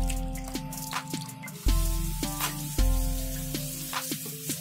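Water drips and splashes as seer fish pieces are rinsed by hand, with soft, wet hits and a few louder sloshing plunges at intervals over a low, steady background, close and without speech.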